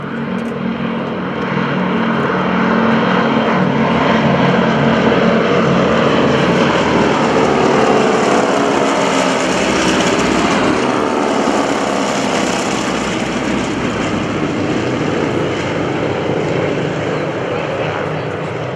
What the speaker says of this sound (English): The T-6 is in formation, coming by.